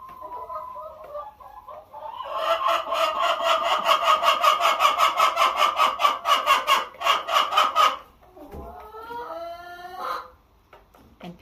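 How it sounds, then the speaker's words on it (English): Roosters cluck loudly and rapidly in a long rhythmic burst lasting several seconds, followed by a few softer squawks and calls nearby. "And people worry about roosters being too loud."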